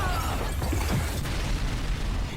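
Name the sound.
explosion in anime fight scene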